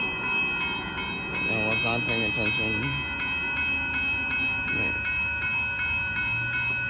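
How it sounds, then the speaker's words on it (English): A northbound Amtrak Texas Eagle passenger train approaches at a road crossing in Austin, Texas, with a faint horn and a steady rumble under a continuous high electrical whine, while someone speaks briefly nearby. "Here comes Amtrak."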